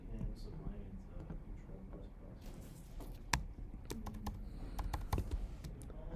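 Someone types on a Mac keyboard, soft irregular keystrokes clicking steadily under low background noise, with one sharper key press partway through.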